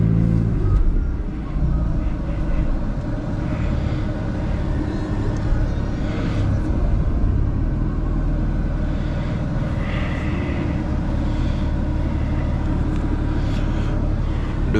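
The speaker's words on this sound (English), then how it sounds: "Let's go do some donuts and come back safe." A manual BMW F80 M3 doing donuts, a steady loud rumbling engine roar with tyre noise that holds constant throughout, heard from inside the car.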